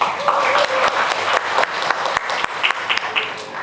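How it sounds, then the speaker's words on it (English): Audience applause at a school event held with a U.S. Embassy collaboration, a steady wash of clapping lasting several seconds with some individual sharp claps standing out; voices murmur faintly underneath. "Round of applause."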